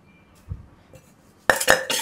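Metal kitchen vessels being picked up and handled for washing: a quiet stretch, then a sudden burst of loud clattering and clinking of metal pots and plates, close by, with no talking.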